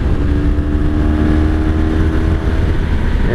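A 1983 Honda Sabre VF750S V4 motorcycle cruises at steady highway speed, its engine humming in a smooth, constant drone under heavy wind rush, close and loud with no change in pitch.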